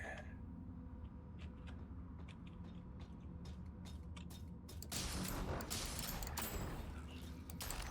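Gunfire in the video game Deadzone: Rogue, with scattered sharp shots and mechanical clatter that swell into a louder, denser volley of rapid fire partway through.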